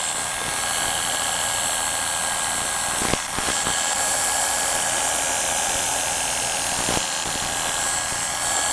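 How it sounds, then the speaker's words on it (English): Electric hair clippers buzz steadily as they shave hair off a leg with the blade held flat against the skin, a loud continuous whine broken by two brief clicks or pauses. "clip as much hair off as you can this first time through"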